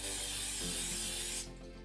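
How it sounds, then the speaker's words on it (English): A steady hissing spray of olive oil into an air fryer lasts about a second and a half and then cuts off, leaving a low background hum. "Spray a little bit more olive oil."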